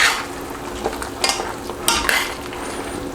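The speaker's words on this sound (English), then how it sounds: "let's just give this a little bit of a stir" A spoon stirs chicken green curry in a pan, making several quick scraping strokes against the metal over a low simmering sizzle, with no voices.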